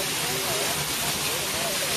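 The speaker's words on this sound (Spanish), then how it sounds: "Qué linda esta cascada" A waterfall on the Canopa river in Guatemala gives a steady, dense rush of falling water that fills the clip with an even hiss from close by.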